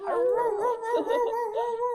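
A voice imitates a wolf howl, a sustained wavering call that rises and falls, loud and close, with no other talking.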